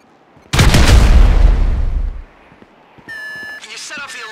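A loud, close explosion in the video game GTA 5 during a raid on a federal building bursts out suddenly and rumbles for about a second and a half before fading, followed by an electronic alarm tone.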